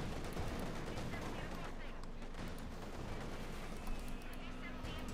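Dense, continuous battle noise from the Company of Heroes 2 video game, with gunfire and tank shells striking the armour of an Ostwind anti-aircraft vehicle, plus a sharp impact burst near the end. No voice is heard.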